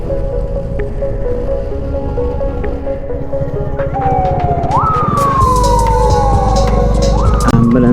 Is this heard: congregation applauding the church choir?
no